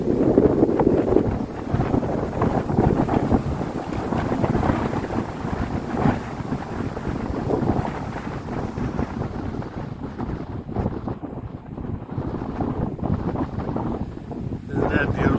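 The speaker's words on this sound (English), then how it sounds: "And you can hear the wind." Wind blowing over the Appalachian Trail, a steady, loud buffeting rumble of gusts battering the microphone throughout, with a voice briefly talking beneath it.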